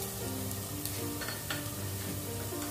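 Masala sizzles and fries steadily in a pan for a bottle gourd and chana dal curry, a continuous close crackle with occasional stirring scrapes and no talk.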